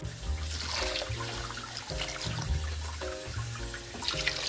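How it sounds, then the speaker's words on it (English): Steady stream of water pouring into a cooking pot for asopao stew, continuous splashing and gurgling, close by, with a faint tonal hum in the background. "Now we're gonna add the water."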